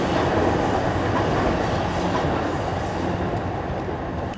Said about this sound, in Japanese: 埼京線が通過しています。